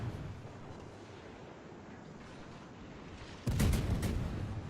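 Battleship guns firing in the World of Warships naval game, an enemy Kongo shelling from range: one sudden heavy boom rises out of steady low rumbling and rolls on loudly to the end.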